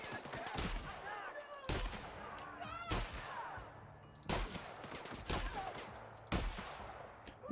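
Shotgun blasts in The Outer Worlds sci-fi video game, five or six loud booming shots spaced about a second apart over a busy backdrop of game effects and rumbling ambience.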